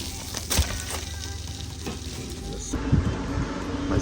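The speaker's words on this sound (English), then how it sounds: "Oh, you hear the sizzle?" Steak sizzling on an outdoor grill with butter added, a continuous close crackling hiss with sharp pops scattered throughout.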